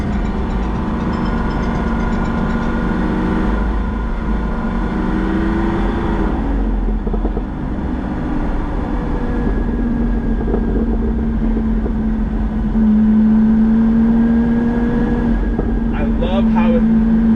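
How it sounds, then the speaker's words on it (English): A Lamborghini Aventador V12 exhaust drones steadily with a deep rumble, a low burbling tone that swells louder near the end; voices talk faintly over it. "see if you can hear a little bit more of the Aventador's exhaust"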